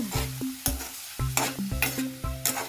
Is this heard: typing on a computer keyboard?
no